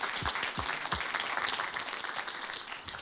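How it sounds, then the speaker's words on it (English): A museum audience at a 9/11 Memorial guest-speaker event claps together, a dense, lively round of applause that carries on steadily for the whole stretch. "we're going to clap even if you're not here"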